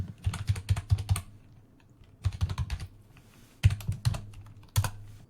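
Close, crisp typing on a computer keyboard comes in three quick bursts of clacking keys separated by short pauses, ending with a single louder tap, and no one talks.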